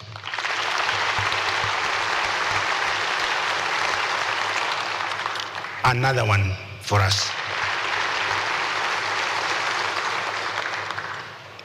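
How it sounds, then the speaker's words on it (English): Sustained, loud applause from a large crowd fills the whole stretch, briefly interrupted by someone speaking over it, then the clapping continues steadily. "give Wainaina a round of applause"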